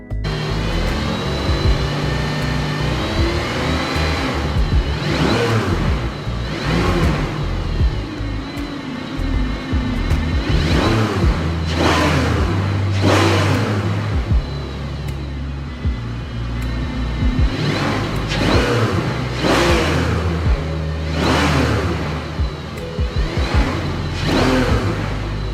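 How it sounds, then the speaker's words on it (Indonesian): A Mercedes-Benz AMG CLK GTR V12 engine roars loud and close through repeated revs and surges, its rising and falling pitch sweeping in waves with whooshing passes. "V12-nya seperti simfoni mekanis, memadukan nada rendah yang menggelegar dengan jeritan tinggi yang menggetarkan jiwa."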